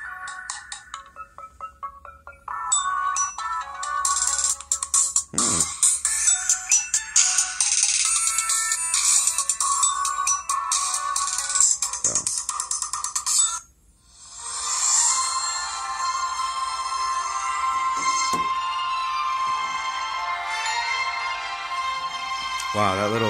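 A ringtone plays at full volume through the small rear speaker of an LG Stylo 3 phone, a bright busy melody looping continuously with a brief dip in the middle, heard fairly close and alone.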